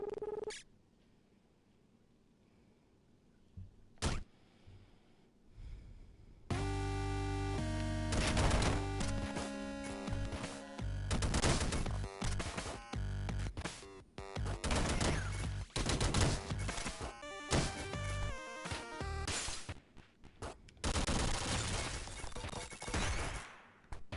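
Rapid gunfire bursts from gun boots in the falling-platformer game Downwell, loud dense volleys of shots running almost continuously after a quiet start, with brief gaps between flurries.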